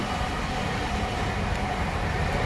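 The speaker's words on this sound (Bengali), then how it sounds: "আরো যাচ্ছে, গুডস ট্রেন যাচ্ছে একটা" A goods train runs alongside a moving passenger train, heard from inside the carriage as a steady, loud, continuous rumble with no pauses and no voices.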